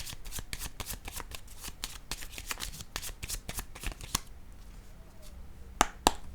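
Tarot cards riffled and shuffled in a rapid flurry of crisp flicks during a card reading, close and clear, then a pause and a couple of sharp snaps as cards are laid down.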